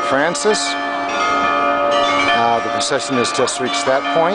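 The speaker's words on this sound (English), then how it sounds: "You hear the bells welcoming Our Lady as she goes down into the town" Church bells ringing in San Giovanni Rotondo as a procession carrying an icon of Our Lady of Grace passes into town, a steady metallic peal sounding throughout beneath someone speaking close by.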